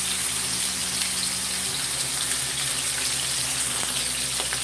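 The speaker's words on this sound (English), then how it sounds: "it's already starting to make noise, and that's what you want, a really, really loud sizzle" Thick steak searing in a hot pan gives a steady, loud sizzle with crackling spatter throughout, close by and without any talk.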